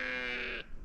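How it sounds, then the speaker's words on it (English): A single sustained sheep bleat at a roadside, clear and fairly close, ending abruptly after about half a second. "Look at all the sheep."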